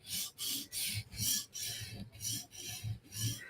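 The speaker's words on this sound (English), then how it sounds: "We got a 150 grit stone. Let's do this tip lightly." A knife tip is drawn lightly across a 150 grit stone on a TSProf Kadet sharpener in about eight short, even rasping strokes with brief gaps between them, close and alone.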